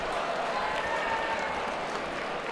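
A boxing crowd at a live bout applauds and cheers after a hook lands, a steady wash of clapping and noise that holds for the whole stretch.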